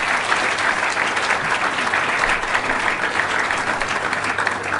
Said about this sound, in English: a very big round of applause for our Home Affairs Minister, Naledi Pandor